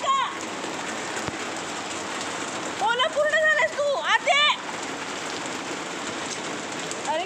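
Steady rain pours down outside a home in a dense, continuous hiss, with a dog soaked in the downpour; someone speaks loudly over the rain partway through.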